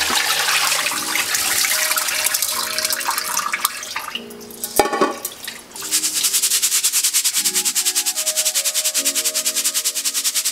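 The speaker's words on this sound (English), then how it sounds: "So what we're going to do next is we're going to strain out the water." Rinse water strained out of soaked sushi rice, a steady close rushing pour of water that breaks off briefly midway, then resumes as a continuous splashing stream.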